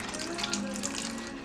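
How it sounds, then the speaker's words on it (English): Broth pouring into a pan while cooking chicken tetrazzini, a soft continuous stream of splashing liquid that runs steadily throughout. "Add in the rest of that broth."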